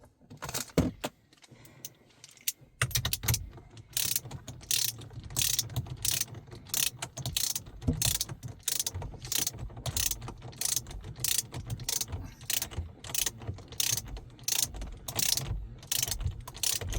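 A ratchet wrench tightens the bolt holding an S550 Mustang steering wheel swapped into an S197, a rapid, continuous metallic clicking that runs close and steady after a brief quieter start.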